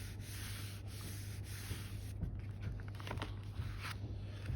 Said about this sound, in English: paint it for a couple seconds, close and rub